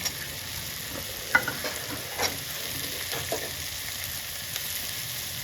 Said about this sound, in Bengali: পুরো ভাজবো না হালকা ফ্রাই করবো এবার দিয়ে দিচ্ছি ক্যাপসিকাম